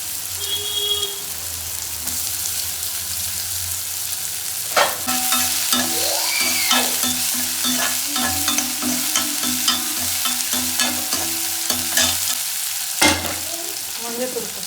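Onion frying in a pan while a spoon stirs it: steady close sizzle with repeated scraping and clinking strokes throughout, and no talk.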